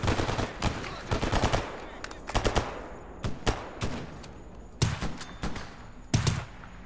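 Gunfire in the video game Stalker Gamma during a swamp firefight: sharp bursts of automatic shots and single cracks spaced irregularly, some clustered rapid volleys, loud against quieter ambient gaps.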